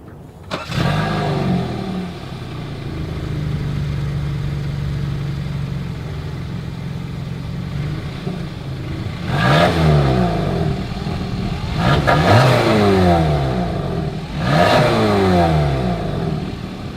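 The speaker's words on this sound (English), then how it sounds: "As always, here is that exhaust clip." A 2023 Kia Sportage idles steadily at close range, then three strong revs rise and fall in a row, with a deep exhaust rumble.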